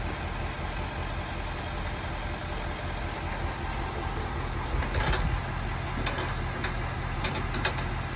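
A truck engine runs steadily while the rig sits stuck in mud, a constant low rumble with a few brief louder bursts of effort near the end, no voices.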